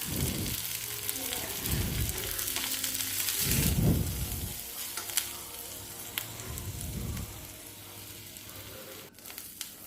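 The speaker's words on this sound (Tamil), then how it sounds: "வெங்காயம் சின்ன வெங்காயம் பச்சை மிளகாய் கருவேப்பிலை இது நல்லா வதக்கிக்கலாம்" Onions, shallots, green chillies and curry leaves sauté in hot oil for a tapioca fry, giving a steady close sizzle. Low bumps and scrapes of stirring rise and fall throughout.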